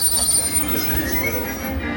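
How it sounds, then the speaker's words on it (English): A Disneyland ride train squeals to a stop, a loud, steady metallic wheel screech running throughout with high whining tones over a low rumble. "please remain seated until the train comes to a full and complete stop"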